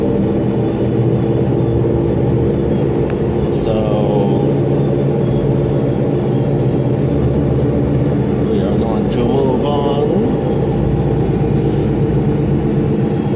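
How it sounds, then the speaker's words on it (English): A car approaches from behind on a quiet road and passes, its engine rumble swelling under someone talking continuously close by. "And now I've got a car coming behind me"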